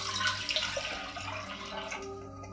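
Two cups of water poured into a cooking pot for a double batch of zombie brain jello shots, a steady, close splashing rush that runs unbroken with no talking.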